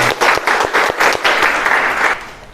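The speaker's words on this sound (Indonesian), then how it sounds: "Oke, tepuk tangan untuk kalian" Classroom students clap together in short bursts during a chemistry lesson ice-break, loud and close, a brisk rhythmic round of applause lasting a couple of seconds.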